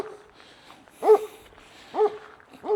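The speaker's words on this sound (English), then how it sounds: "okay, that's an Estrela dog." Large Estrela mountain dog barking outdoors on a walk in Portugal, three deep separate barks roughly a second apart, moderately close, with quiet background between.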